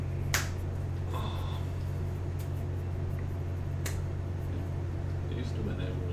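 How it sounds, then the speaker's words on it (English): A person on a live sketching stream snaps their fingers: one sharp snap near the start, then a few fainter snaps over a steady low hum of room noise. "snap my fingers like it was nothing."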